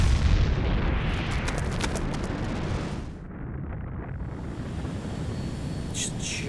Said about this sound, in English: Just a giant fucking explosion.